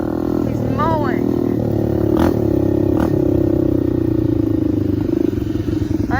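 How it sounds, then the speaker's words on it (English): A lawn mower runs nearby, its steady engine drone continuous and fairly loud, broken by a couple of brief clattering bursts, with faint voice-like sounds in the background. "Oh, he's mowing."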